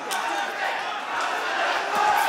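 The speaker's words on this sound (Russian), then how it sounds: "Слышим, как поддерживает зал Наримана." An arena crowd at a fight night roars steadily in support of fighter Nariman Abbasov, a continuous dense wash of cheering and shouting that swells slightly toward the end.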